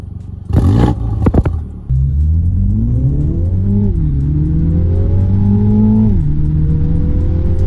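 A Mini Clubman JCW with a 306 hp engine, in sport mode with traction control on, pulls away after a short burst, revving up through several gear changes in a loud, smooth, rising engine drone.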